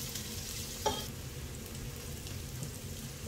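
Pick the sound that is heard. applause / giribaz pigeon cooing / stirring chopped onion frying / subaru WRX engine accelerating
stirring chopped onion frying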